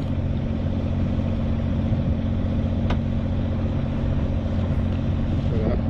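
A sailboat motoring at 4.6 knots on its engine while approaching Loctudy harbour, a steady, loud low drone that runs throughout without a break.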